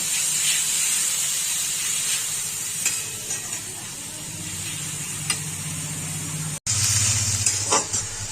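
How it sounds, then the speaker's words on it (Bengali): Kudli shrimp fry with onions in a pan, giving a steady close sizzle and hiss with occasional stirring scrapes. A brief dropout comes near the end before the frying resumes. "একদম পেঁয়াজের সঙ্গেই ভেজে নেব"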